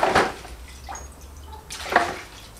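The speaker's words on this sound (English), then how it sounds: "Give that a rinse off in me bucket of parts washer." Engine part rinsed in a bucket of parts washer fluid, with two short sloshing splashes and faint drips between them, close and alone.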